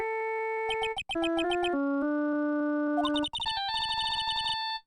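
A cell phone rings in Phoenix Wright: Ace Attorney Trilogy, a loud electronic chiptune ringtone of rapid, bright stepping notes that plays alone in a few short phrases, with brief breaks between them.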